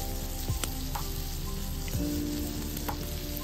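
Chicken fries in a pan with more oil added, giving a bright, dense sizzle close up and occasional utensil clicks and scrapes as it is stirred.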